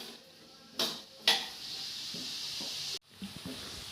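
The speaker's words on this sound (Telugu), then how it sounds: "ఆనియన్ ఫ్రై చేయడానికి ఆయిల్ వేస్తున్నాను" Oil for frying onions hisses softly in a pan for a Telangana fish curry, a faint steady sizzle broken by a few sharp clatters and a brief cut near the end.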